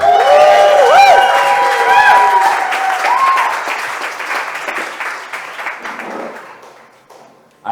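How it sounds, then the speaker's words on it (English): A crowd at Crypto Monday in the San Juan Cigar Bar and Lounge bursts into applause with cheers and whoops over the clapping, loud at first and then thinning out and fading over several seconds. "let me get a round of applause"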